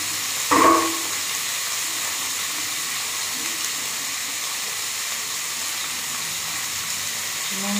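Paneer, potato, capsicum and peas frying with salt over a high flame, a continuous close hiss and sizzle after a brief clatter near the start, with no talking.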